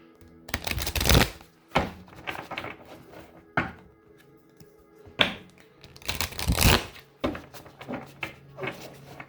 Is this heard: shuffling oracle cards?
yes